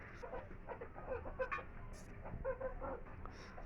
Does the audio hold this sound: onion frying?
no